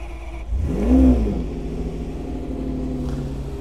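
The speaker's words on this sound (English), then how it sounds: "you can hear the sound of V12, fantastic Italian engine" A Kode57 car's Italian V12 engine cranks and fires, a brief rising rev, then settles into a steady low idle rumble, close and continuous.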